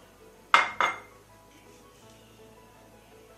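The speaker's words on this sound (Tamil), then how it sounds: "இதில் மூணு மிளகா மிக்சி ஜாரில் போட்டுறோமா அப்புறம் மிளகு சீரகம் அதை போட்டுறோமா" Dried chillies, pepper and cumin tipped into a mixer jar, two quick clattering hits close together followed by quiet.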